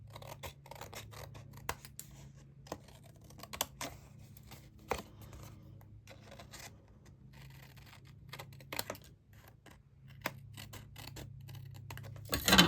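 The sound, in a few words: trimming paper with a paper trimmer for a card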